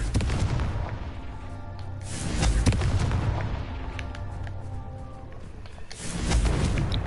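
Confringo spell blast in Hogwarts Legacy, a series of booming explosions and rumbling impacts, loud and close, with a fresh burst near the end.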